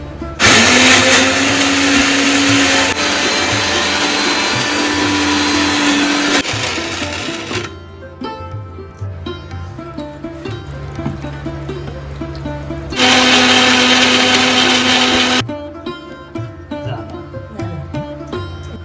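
A mixer grinder whirs loudly in two long bursts grinding chilli, turmeric and spice masala for crab curry, pausing between them with quieter clinking and handling sounds, then starting up again.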